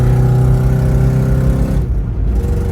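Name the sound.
car accelerating uphill in third gear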